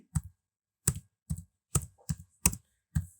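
Seven distinct key presses clack on a computer keyboard at an uneven pace, each crisp and close in an otherwise quiet room, with no voices.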